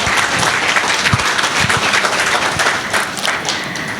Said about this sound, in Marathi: त्यांच्यासाठी एकदा टाळ्या होऊन जाऊ दे.